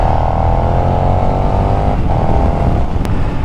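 A 2020 KTM 1290 Super Duke R revs hard, its engine note climbing steadily, then a quickshifter snaps through an upshift with a brief dip and the pitch rises again, loud and close, no talk.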